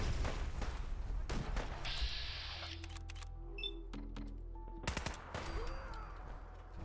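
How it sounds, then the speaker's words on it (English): Video game gunfire, a few sharp close shots with mechanical clacks and electronic tones between them, with no talk. "Two shots, two kills."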